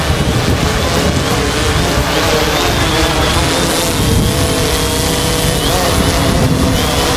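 The Mariner drone's motors whir steadily while it flies in strong, gusty wind on the helideck of a 200ft megayacht. Heavy wind buffeting on the microphone runs throughout, and the motor sound stays close and continuous.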